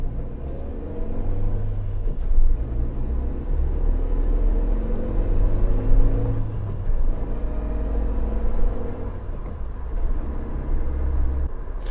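Steady low engine rumble inside a 2019 Suzuki Jimny with a manual gearbox, creeping through stop-start city traffic, the cabin drone swelling slightly as it pulls away, continuous and close with no talking.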